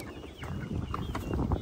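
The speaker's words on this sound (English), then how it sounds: "I have a lot of chickens right there" Farm chickens cluck and murmur in a busy flock near their feed, overlapping soft calls rising and falling without a break.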